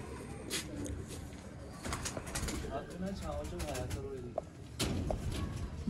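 Pigeons in a loft coo and rustle close by, with soft wing flutters and a few sharp clicks, while someone talks over them.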